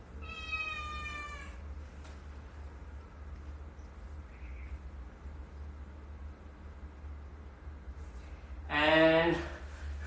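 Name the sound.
cat meowing for dinner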